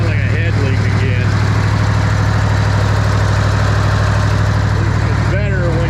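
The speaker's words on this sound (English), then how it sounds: "Just an exhaust leak, it's starting to really sound like a head leak again." A Bobcat 600 skid steer engine idles with a suspected exhaust or head gasket leak, a loud steady low rumble with a ticking, puffing pulse close by, and someone speaks briefly over it.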